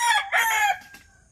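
A backyard rooster crowing among domestic chickens, one close, fairly loud crow that rises and trails off within about a second, alone without voices.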